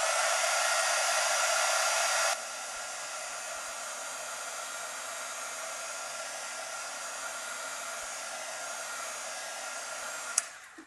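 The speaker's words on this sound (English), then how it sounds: "I'm gonna go ahead and dry this just using the low heat setting on my heat gun" Heat gun on its low heat setting blowing over wet paint on mail art, a steady loud airy whoosh running throughout, stronger for the first couple of seconds then settling to an even rush with a brief click near the end.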